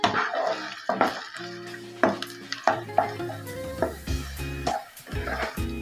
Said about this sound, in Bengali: চিংড়ি মাছটা ভালো করে এই তেলের মধ্যে কষিয়ে নিতে হবে।